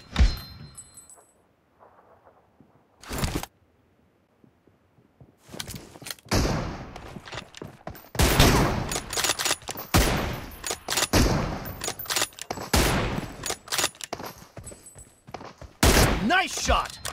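Gunfire from a sniper-rifle challenge in the video game BGMI, loud sharp shots in irregular bursts with quiet gaps between them, and a voice talking between the shots.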